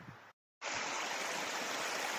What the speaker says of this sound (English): Starting to see a lot of the cascades and waterfalls there coming up on the left.